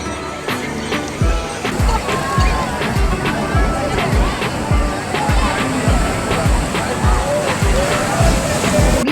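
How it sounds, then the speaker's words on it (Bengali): Sea waves washing onto the shore at Puri beach, a continuous sloshing, rushing surf that stays loud and steady throughout, with faint crowd babble mixed into the background. "সমুদ্রে বরাবরই মন কাড়ে, এত সুন্দর ঢেউ"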